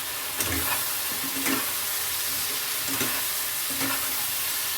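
Ginger, garlic and green chilli paste with turmeric, cumin, coriander and Kashmiri red chilli powder frying in a pan, a steady close sizzle with periodic scraping stirs, no voices.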